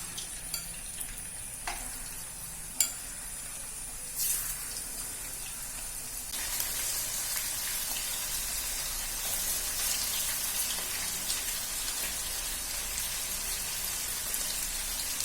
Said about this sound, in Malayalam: വെളിച്ചെണ്ണ നന്നായിട്ട് ചൂടായിട്ടുണ്ടെങ്കിൽ നമുക്ക് മീന് കുറേശ്ശെ അതിലേക്ക് ഇട്ട് കൊടുക്കാം.